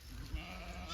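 A ewe on green pasture bleats once, a short wavering call that sits faintly over soft outdoor background noise, with no speech.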